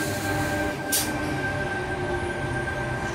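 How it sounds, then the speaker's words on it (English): A train rumbles into platform 2 at Epping station, New South Wales, at close range, a steady metallic drone with a high hiss of brakes or wheels partway through. "Arriving onto platform number 2, we have T69, the front 4 cars."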